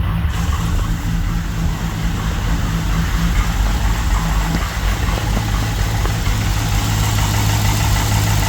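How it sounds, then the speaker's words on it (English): A car engine idles steadily with a light chattering rattle from the flex plate, a continuous low rumble that stays close and even throughout with no talk. "I hear the flex plate chattering around a bit, but that's it."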